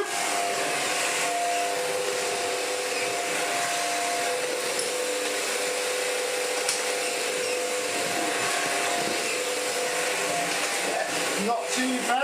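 A Shark NV801 Lift Away vacuum cleaner running on its hardcore mode, a steady loud whining motor drone with a constant airflow rush, close and unbroken, with a brief clatter near the end.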